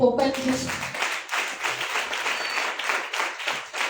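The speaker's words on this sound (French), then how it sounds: "Acclame Jésus." Church congregation applauding during a worship service, a steady wash of clapping from many hands that follows a brief spoken line and carries on for several seconds.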